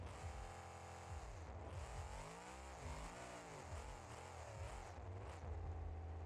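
A monster truck engine in the BeamNG.Drive driving game idles high and steady, a loud continuous drone with gentle wavering rises and dips in pitch, heard alone without talk.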